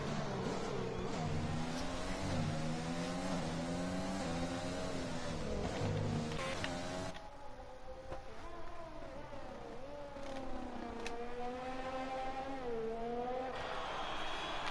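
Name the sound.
F1 race car driving through final turn and crossing finish line, from F1 video game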